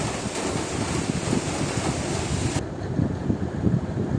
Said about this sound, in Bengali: সারাদিন শুধু বৃষ্টি আর বৃষ্টি।